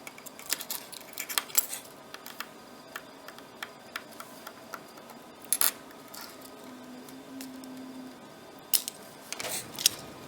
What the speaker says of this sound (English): All you need to take it apart is a simple screwdriver. And here we go.